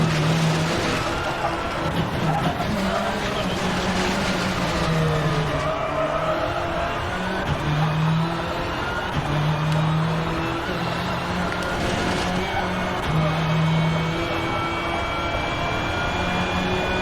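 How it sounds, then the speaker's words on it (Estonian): A white electric rally car pulls onto the track at a round of the 2023 Estonian electric rally championship in the Czech Republic, its motor giving a steady, whining drone with shifting tones that runs throughout at moderate distance. "Anders Inimää ongi rajale minemas."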